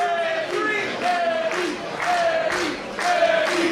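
A wrestling audience at an Absolute Intense Wrestling match chants for Eddie Kingston against Shinjiro Otani in a steady rhythm, the loud crowd voices rising and falling in repeated bursts about every half second, with no commentary over it.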